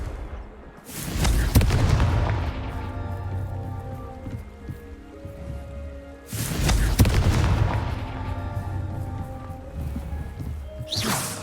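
Confringo explosive spell cast in Hogwarts Legacy on PS5: two loud, booming blasts several seconds apart, each a sharp crack followed by a long rumbling, crackling decay.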